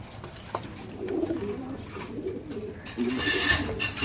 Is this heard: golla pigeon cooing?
yes